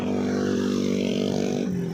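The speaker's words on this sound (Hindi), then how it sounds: "बाइक वाले भाई साहब गुजर गए," A motorcycle passes close by on a flooded street in Multan, a loud steady engine drone that falls slightly in pitch as it goes past.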